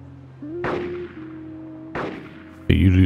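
DayZ gunfire, two sharp shots about a second apart followed by a louder burst at the end, with a faint tonal hum underneath and no clear talk.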